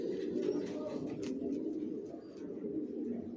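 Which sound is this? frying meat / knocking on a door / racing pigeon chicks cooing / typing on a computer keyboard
racing pigeon chicks cooing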